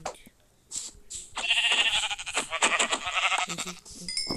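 Sheep bleat in a blocky Minecraft-style survival game set in a forest, with several wavering bleats in a row, mid-loud and partly overlapping a voice speaking.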